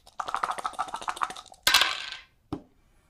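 Three attack dice rolled across a board during a HeroQuest game at game night, a quick burst of small clattering impacts with a sharp bounce and a final tap, heard up close with no talk.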